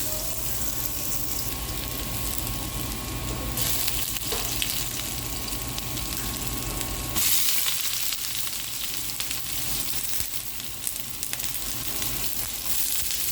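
Garlic sizzles and crackles in a very hot pan, a steady close frying hiss that runs the whole time, with scrapes and rattles of stirring and a brief brighter burst partway through.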